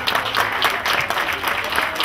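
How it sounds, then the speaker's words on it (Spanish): Audience applause at a school tribute ceremony during a cultural week, a steady wash of many hands clapping that fills the whole stretch without pause, fairly loud and close. "les pido un aplauso"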